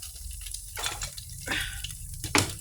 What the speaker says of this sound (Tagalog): Lagyan nyo po ng tubig.